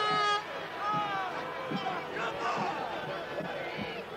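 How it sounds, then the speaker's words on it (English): Basketball crowd at the Coliseum in Morgantown, West Virginia, during a 1980 WVU versus Pitt game, a steady roar of hubbub and chatter with a few sharp bangs and thuds scattered through it. "Well, the crowd reacts noisily here at the Coliseum in Morgantown."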